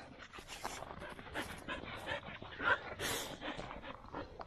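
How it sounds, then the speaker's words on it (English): Two Australian Shepherd yard dogs, Rusty and Minnie, pant quietly nearby with small whimpers and yips, and faint voices murmur in the background. "Those are my two Australian Shepherds."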